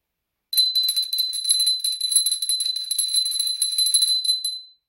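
A Christmas bell rings with a bright, sustained metallic jingle that starts after a brief silence, shimmers steadily for about four seconds, then fades out cleanly, heard alone.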